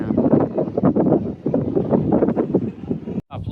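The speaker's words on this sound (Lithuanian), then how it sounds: "vėjas pučia gerai" Strong wind buffets the microphone on the deck of a ferry leaving Klaipėda port, a loud rumbling gusty roar that surges and dips, with a brief dropout near the end.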